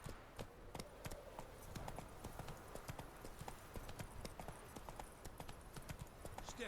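The horse Roach runs in The Witcher 3: Wild Hunt, a fast steady gallop of hoof clip-clops, close and even, with no talking over it.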